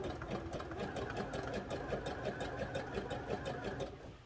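A sewing machine runs steadily over thick fabric while finishing the seams on a pair of wrestling tights, a continuous close mechanical whir with a rapid needle rhythm, alone without talk.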